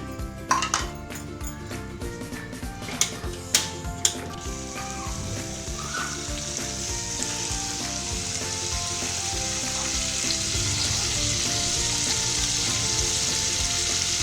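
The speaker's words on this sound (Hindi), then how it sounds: "अब मैं इसमें डालती हूँ टमाटर," Tomatoes frying in a hot pan for a potato and green bean curry give a loud, steady sizzle that builds and thickens, with a few sharp utensil clinks near the start.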